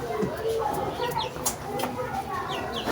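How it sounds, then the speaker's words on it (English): A chicken clucks in a Bangladeshi village, short repeated clucks close by, with people talking underneath. "The chicken always wants to bite my leg"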